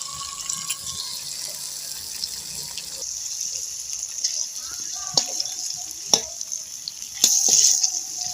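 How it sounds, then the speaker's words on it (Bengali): Mushrooms fry in a pan with a steady, moderate sizzle, broken by a few sharp clinks of a utensil against the pan toward the end. "মাশরুমগুলো একটু ভেজে নেবো"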